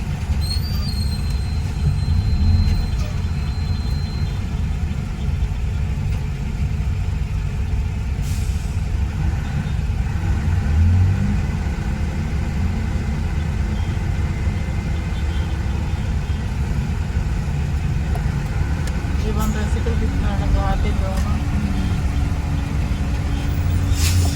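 Heavy, congested road traffic at Open Canal, where a roadway is under construction: a continuous low rumble of idling and crawling engines from trucks, cars and tricycles, with an occasional brief horn tone rising above the drone.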